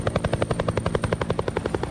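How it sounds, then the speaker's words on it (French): A helicopter flies over Antarctica, its rotor beating in a fast, even, loud chop that carries throughout without any voices. "Les hélicoptères ne peuvent voler qu'en été."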